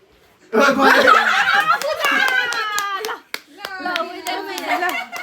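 A group claps together at an outdoor barbecue day gathering, scattered sharp hand claps building up under lively children's chatter and laughter.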